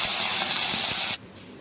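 Chicken mince sizzles in hot oil in a wok, a loud, bright, steady hiss that cuts off abruptly near the end, leaving a quieter background.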